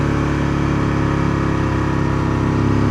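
Aprilia RSV twin-cylinder motorcycle engine running steadily, a loud, close, continuous throbbing drone with a low pulsing beat and no voices over it.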